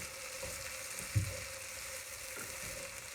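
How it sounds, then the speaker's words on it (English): Cut potatoes and onions fry in a skillet with a soft, continuous sizzle, plus a few stirring scrapes and one brief louder knock near the middle; no talking. "So, we've cut all the potatoes up. We've got them in the skillet here."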